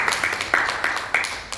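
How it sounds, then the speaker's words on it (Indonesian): An audience at a business marketing plan presentation claps in a short burst of rhythmic, evenly spaced applause, moderately loud and lasting under two seconds. "tepuk tangan buat kita semuanya"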